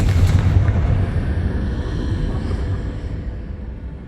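A Confringo explosion spell in Hogwarts Legacy booms out as a loud, deep blast, then rumbles on and slowly fades over several seconds.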